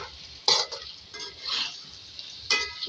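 A spoon stirs prawns into pumpkin-leaf saag aloo in a pan, giving a few close scraping strokes with soft sizzling underneath.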